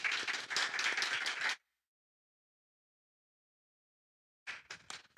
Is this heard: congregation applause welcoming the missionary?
yes